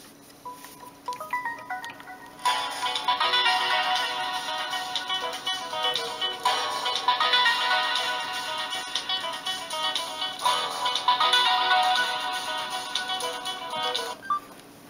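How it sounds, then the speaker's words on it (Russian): A Samsung GT-C3322i mobile phone's built-in MP3 ringtone plays a bright electronic melody in repeating phrases, fairly close and clear, starting after a brief quiet moment. "Есть один встроенный MP3 трек."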